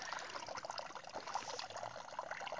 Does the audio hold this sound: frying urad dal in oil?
no